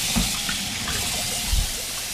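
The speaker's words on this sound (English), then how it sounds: "Get the soap on it, get the warm water on it, feel around, make sure you don't feel anything on it." Warm tap water runs steadily while a dish is scrubbed with soap at a kitchen sink, a continuous close splashing stream with a couple of brief thumps of the dish against the basin.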